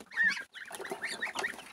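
Chickens and goslings clucking and peeping close by while competing for food, overlapping short calls and honks in quick succession.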